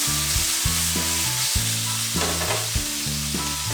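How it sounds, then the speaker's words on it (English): Steady loud sizzling of pork frying in a hot pan, with a repeating low rhythmic thumping running under it throughout. "I'm going to be frying my pork"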